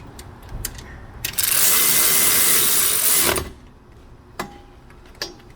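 A power tool, likely an impact driver, tightens bolts on a 2010-2014 Subaru Outback brake in one loud burst of about two seconds, framed by sharp metallic clicks and clatter before and after.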